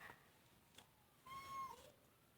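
A house cat gives a short, faint meow, thin and drawn out, above a quiet room with a soft tap or two nearby.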